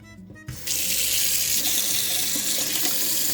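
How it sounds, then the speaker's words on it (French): Tap water runs steadily into a sink as cookie cutters are rinsed, a loud continuous splashing rush that starts abruptly after a brief quiet moment. "Que je vais devoir rincer. Hein. Je vais les rincer."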